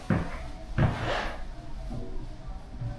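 Solid interior door in a newly built Florida home opened and closed, two close wooden thumps followed by a faint softer knock, with no talk.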